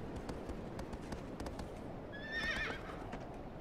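A horse in Shadow of the Colossus gallops on steady hooves under a soft ambient wash, then lets out a short, high whinny partway through, moderately close but not loud.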